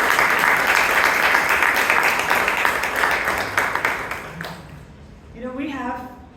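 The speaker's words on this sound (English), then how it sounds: "Can we have a big round of applause?" A club meeting audience claps for the speakers in a loud, dense round of applause that fades out, followed by a voice speaking alone.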